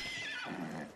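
A horse whinnies in the video game Ghost of Tsushima, one close, loud neigh that falls in pitch and fades out, heard alone without talk.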